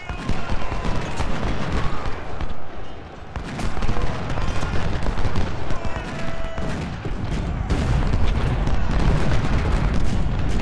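Continuous cannon and artillery fire from the Civil War strategy game Ultimate General: Civil War, dense rolling booms and crackling volleys filling the whole stretch at steady loudness.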